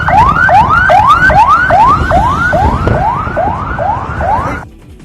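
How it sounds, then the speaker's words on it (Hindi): A loud wailing ambulance siren repeats its rising sweep about a dozen times in quick rhythm, close by, then cuts off abruptly. "थोड़ी देर में होटल के सामने एम्बुलेंस की लाइन लग गई, जिसके बाद पूरे इलाके में सायरन की आवाज गूंजने लगी।"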